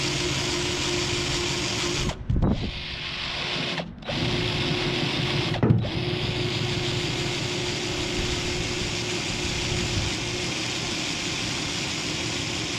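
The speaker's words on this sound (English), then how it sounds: "Just run them back over with the eraser wheel again." An eraser wheel on a power tool strips glue residue from a Peterbilt 359 truck, a steady mid-pitched motor whine running continuously and close, briefly interrupted by three short dips as the wheel lifts and bites again.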